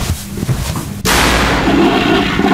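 A sudden loud door slam in an indie horror video game cuts in partway through, followed by a sustained dense rumble and crackle that stays loud to the end, with no talking.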